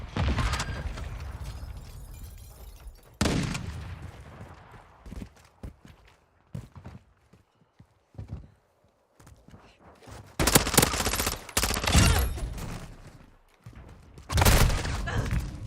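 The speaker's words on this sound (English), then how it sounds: "Taking effective fire." Gunfire in a military shooter video game, bursts of loud close automatic shots and single cracks separated by quieter gaps with footsteps, ending in another heavy volley.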